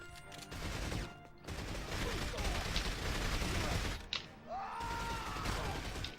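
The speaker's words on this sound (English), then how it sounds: "Who's shooting at me?" Gunfire in the 007 From Russia with Love video game, a dense run of loud shots and crashes filling most of the stretch, with brief gaps and a rising electronic tone near the end.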